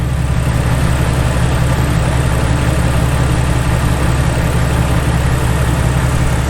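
A 2000 Jeep XJ engine idling after a transmission fluid and filter change: a steady, close, low mechanical hum and throb that continues evenly throughout, with no talk.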